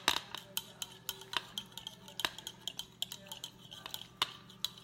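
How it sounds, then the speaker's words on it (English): A small fork stirs yeast into warm water in a bowl for pizza dough, tapping and scraping against the bowl in quick, steady clinks close by. "just get a little fork and just start stirring it as such"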